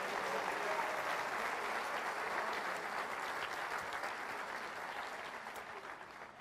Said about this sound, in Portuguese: E para Jesus, renda a ele, misturado com glórias, um aplauso gostoso.